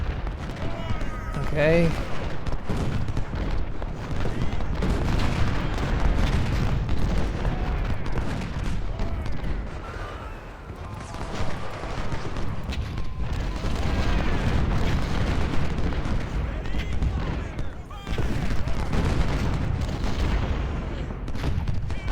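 Massed musket volleys and booming artillery fire from the Ultimate General: Civil War battle at First Bull Run roll on continuously in dense, overlapping bursts, with a player's voice talking over the din.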